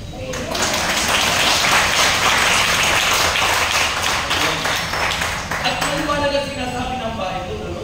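A church congregation claps together in a dense, steady wash of hands that swells early and thins toward the end, with voices mixed in.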